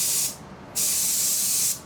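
A spray gun lays down clear coat in two bursts, a steady loud hiss that stops briefly and then resumes for about a second, with the fan narrowed slightly and the air pressure raised a little.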